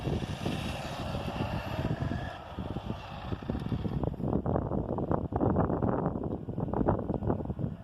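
An Arrma Talion 6S brushless RC car runs a full-throttle speed run, a continuous high-pitched motor whine that rises and shifts as it passes, mixed with rushing wind noise, with no talk.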